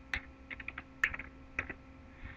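Light, fairly faint clicks from a computer keyboard as a numeric value is entered in surveying software, a few scattered keypresses spaced irregularly against a quiet background.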